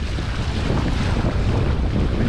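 Strong wind roars across the harbour at Christchurch during a windsurfing session, a dense, buffeting rush over the microphone with water noise beneath, steady and loud without any talk.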